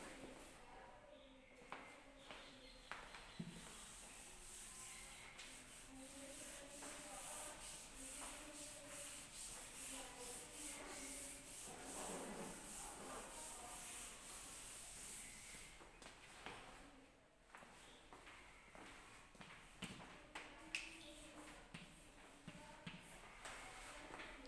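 A board being wiped clean in a classroom, with steady scraping and rubbing strokes that run for most of the clip, fairly quiet, under a faint background hiss, followed by a few light knocks near the end.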